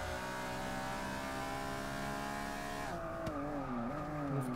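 A McLaren F1 race car in Forza Motorsport 7 holds a loud, steady, high engine drone. The pitch shifts as it changes gear near the end, with faint tire noise and no talk.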